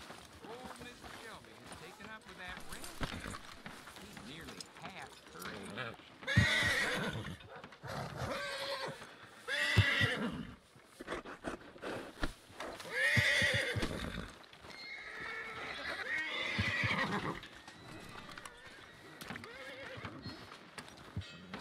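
Horse neighing and hooves clip-clopping in a Wild West video game town, with whinnies recurring through the passage alongside ongoing talk.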